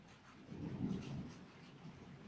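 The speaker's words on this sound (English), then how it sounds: "You getting amped up from the thunderstorm?" A low rumble of thunder from a thunderstorm swells and fades over a couple of seconds, with faint rain in the background and no voices.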